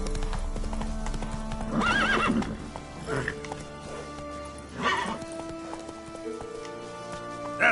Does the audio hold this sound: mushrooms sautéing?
no